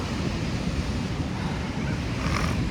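Sea waves at a beach in Puri roll in as a continuous broad wash of surf, mixed with blustery wind buffeting the microphone.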